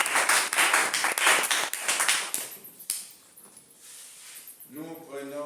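A church congregation applauds to acclaim the Lord, dense clapping close and loud at first, thinning after a few seconds, with voices and a rising sung note at the end.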